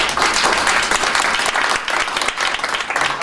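Loud, dense applause from a crowd at a book launch in a parish hall in New York, greeting Newark mayor Cory Booker, many hands clapping close and continuous through the short burst.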